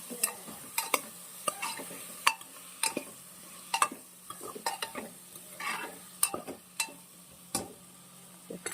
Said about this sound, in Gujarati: હવે બરાબર પ્રોપર બધો મસાલો આપણે મિક્સ કરી દઈશું